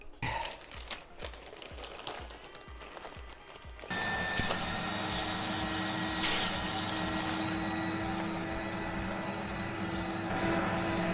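A vacuum pump draws down a vacuum bag laid over a carbon fibre splitter for a Mazda MX-5 NC. Handling noises come first, then a steady, loud mechanical hum starts partway in and runs to the end.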